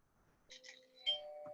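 A soft two-tone doorbell chime, a quick ding-dong heard faint and distant with no talking over it.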